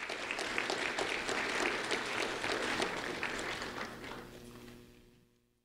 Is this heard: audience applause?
yes